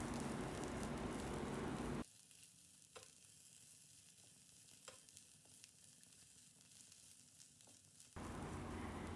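Onion juliennes and baby corn stir-fry on a medium flame, giving a steady close sizzle broken by a few soft stirring scrapes, with louder broadband frying at the start and end.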